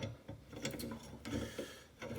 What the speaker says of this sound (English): it actually is an open-ended, self-adjusting ratcheting wrench